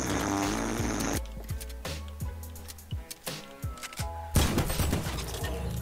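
Rapid gunfire bursts from a Fortnite Battle Royale match ring out loud and near as a string of sharp, evenly spaced shots over constant game noise.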